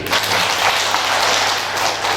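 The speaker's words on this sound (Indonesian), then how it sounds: "Tepuk tangan dulu." Audience applause at a Buddhist temple gathering, a steady dense wash of clapping held at even loudness throughout, close and continuous with a low hum beneath and no talk.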